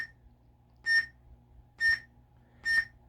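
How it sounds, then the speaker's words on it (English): Three short electronic beeps at an even pace from a Sabertrio lightsaber, clear and close, over a faint low hum. "So you hear the 3 beeps."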